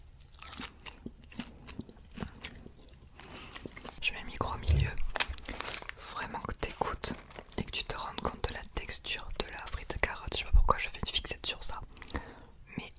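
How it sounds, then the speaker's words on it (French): Crunchy bites and chewing of McDonald's carrot vegetable fries, close and crisp, in repeated bursts alongside soft whispering. "j'ai jamais mangé une carotte cuisinée comme ça en fait."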